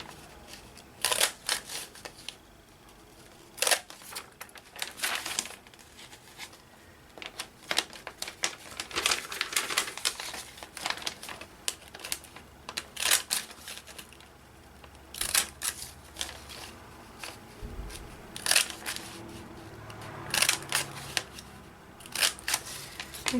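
Paper is cut with a circle punch at a crafting table, giving scattered crisp snaps and crinkling rustles at irregular intervals, fairly close but quiet.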